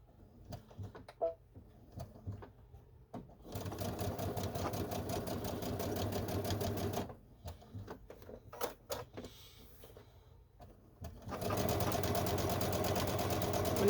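A sewing machine stitching around three sides of a fabric pocket flap, with several runs of rapid steady whirring and stitching broken by quiet pauses and small handling clicks, close and fairly loud.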